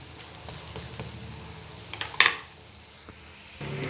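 Dosa frying on a hot pan as it cooks after being flipped, with a steady soft sizzle, a brief louder crackle midway, and a faint constant hum beneath.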